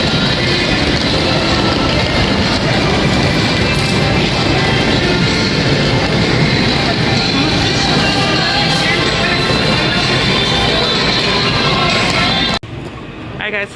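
Busy train station concourse at Union Station in Washington, D.C., with a loud, steady wash of crowd murmur and echoing mechanical rumble that runs continuously before cutting off abruptly near the end; voices mingle throughout.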